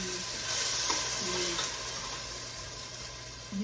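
Diced onion sautéing in a pan, softening with a steady close sizzle and a couple of brief stirring scrapes, no talk.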